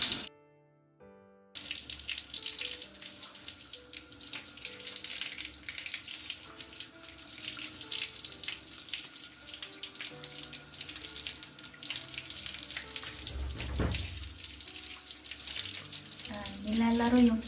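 Tap water runs steadily into a basin while hands play in the stream before a bath, a close, continuous splashing rush that persists for the whole stretch with small shifts in intensity.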